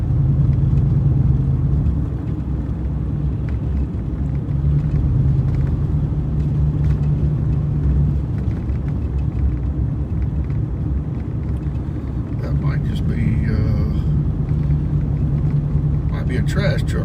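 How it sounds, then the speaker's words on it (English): A trash truck rumbling past on a road on a winter morning, a low steady engine drone that swells and fades slightly, heard under ongoing talk. "I believe it is a trash truck"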